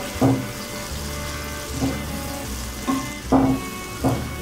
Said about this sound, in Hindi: प्याज हमारे फ्राई हो गए, अब हम इसमें ऐड करेंगे टोमेटो